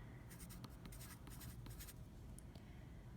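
Pen or marker writing numbers during a math subtraction lesson, faint scratchy strokes in quick bursts over a low steady background hum, no voices.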